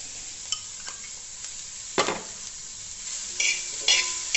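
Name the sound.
cooked peppered chicken being added and stirred in a pan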